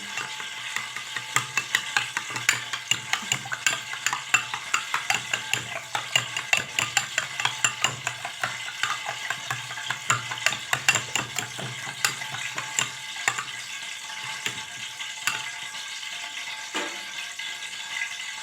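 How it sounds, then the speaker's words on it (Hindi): Two eggs with black pepper and salt being whisked in a bowl, a rapid steady stream of close clicking, tapping strokes that keeps a quick even rhythm for a long stretch with no voices. "अब इसको अच्छी तरह मिक्स करते हैं।"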